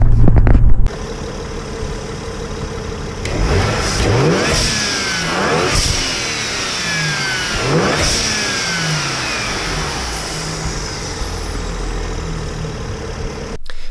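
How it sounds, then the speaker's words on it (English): A BMW E60 with the N54 engine and a newly installed blow-off valve and charge pipe idles, then revs in several sharp bursts; each lift off the throttle brings a subdued whoosh as the revs drop, loud and close. "a little subdued blow-off valve sound when you let off the gas"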